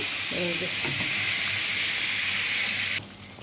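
Chicken meat frying in a pan on a home stove, a loud, continuous hissing sizzle that drops off sharply near the end, with a few faint scraping stirs early on.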